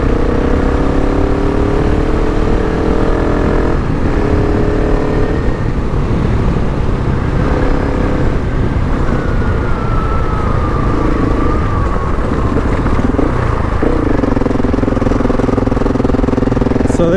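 A KTM 690 Enduro R motorcycle engine runs steadily at around 2,500 to 3,500 RPM outdoors in the mountains, a loud continuous droning hum with slight shifts in pitch as the revs rise and fall, with no talking.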